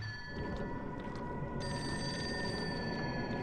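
A telephone rings inside the video game Fatal Frame 5, with a steady electronic ring tone that sounds clear over a low, dark ambient drone.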